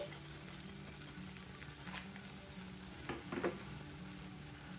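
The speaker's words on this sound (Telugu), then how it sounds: "పచ్చిమిరపకాయలు వేగిపోయినాయి. ఇప్పుడు మనకి మిగిలిన మసాలా పొడిని దీనిలో వేసుకోవాలి" Green chillies fry in a pan with masala powder, a soft, quiet sizzle running steadily, broken by a few utensil scrapes and clinks toward the end.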